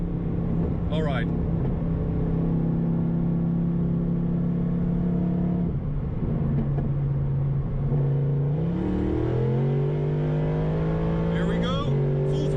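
A supercharged 6.2-liter V8 car roars at steady full-throttle pitch from inside the cabin, then shifts and climbs again, loud and sustained, with brief excited voices over the engine.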